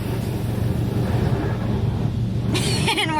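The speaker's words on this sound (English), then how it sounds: "So we are at a touchless wash right now," Touchless car wash running, a continuous low mechanical rumble and rush of spraying water, with a brief hissing burst of spray near the end.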